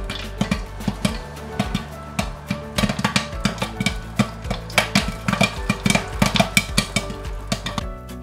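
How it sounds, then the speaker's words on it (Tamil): Popcorn kernels popping inside a covered nonstick pan, a dense run of sharp, irregular pops and snaps that quicken and crowd together over a low stovetop hiss, close and fairly loud. "நல்லா உள்ள படப்படன்னு வெடிக்கிற சவுண்டு கேட்கும்."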